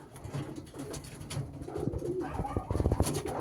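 A homing pigeon coos in the loft, soft low repeated coos rising in intensity toward the end, close by with faint rustling around it.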